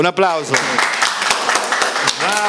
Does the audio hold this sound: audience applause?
yes